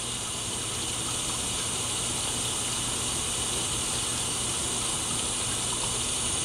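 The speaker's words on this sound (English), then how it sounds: "Let's go ahead and fill this up for our wash water" Warm tap water gushes with a steady hiss into a container for film wash water during home E6 developing, continuous and even throughout with no talking.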